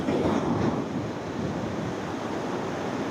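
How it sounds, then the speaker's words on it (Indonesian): Ocean surf rolls onto a beach in a continuous loud wash of breaking waves, with wind buffeting the microphone and no voices over the steady roar. "Dari yang tadi jauh, ombak itu nyamperin kita, dekat, semakin dekat."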